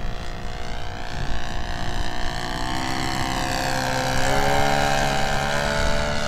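A restored Flair Magnatilla RC model airplane in flight outdoors on a windy day, its engine giving a continuous buzzing drone whose pitch shifts and rises as it passes.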